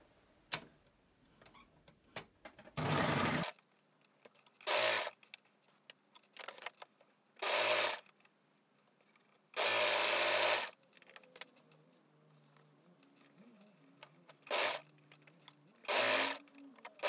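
A sewing machine stitches the side seam of high-waisted swimsuit bikini bottoms in about six short, separate bursts with quiet gaps between them, close and fairly loud.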